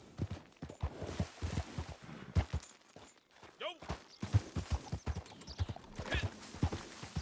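Horse hooves clip-clop at a walking pace in the video game Red Dead Redemption 2 Online, with a brief whinny midway and a voice talking over the steps.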